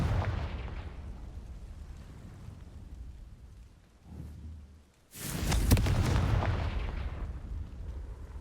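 Confringo fire spell in Hogwarts Legacy bursting into a sudden loud explosion after a low rumbling lead-in, followed by a crackling, roaring blast that sustains and slowly fades over several seconds.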